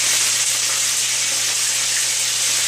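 Hot oil spurts and sizzles steadily while ginger chicken fries, a close, bright crackling hiss with a low hum beneath.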